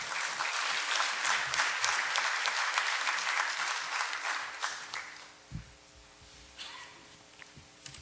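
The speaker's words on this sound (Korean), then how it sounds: "우리 박수로 환영하겠습니다." Korean church congregation applauding to welcome a visiting preacher, dense loud clapping for about five seconds that then fades into quieter room noise and scattered sounds.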